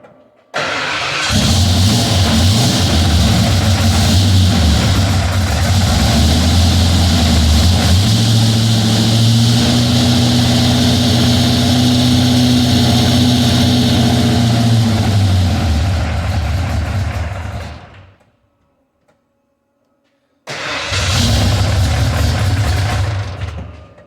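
A small block Ford V8 with a retrofit roller cam runs loud and close, a deep lumpy idle with a diesel-like clatter and brief revving, then cuts off before restarting near the end.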